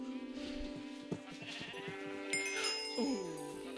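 Video-game sheep bleating faintly under busy game sounds and music, with a wavering bleat near the end.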